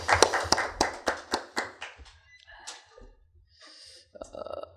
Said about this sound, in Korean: 우리 찬양단 위하여서 다시 한번 격려의 박수하도록 하겠습니다.